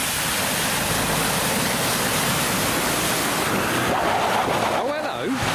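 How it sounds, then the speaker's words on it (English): A Ford Ranger splashing through the water at Rufford Ford, a loud broad rush of churned water and spray at close range that eases off near the end. "Splashing."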